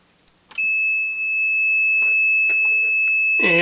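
Continuity sounder of an ohm meter during repair of a Mettler PL3000: a steady, piercing electronic tone starts abruptly and holds for about three seconds, with a few faint clicks and handling noises underneath.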